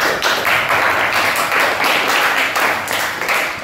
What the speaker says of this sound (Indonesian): Tepuk tangan untuk Fana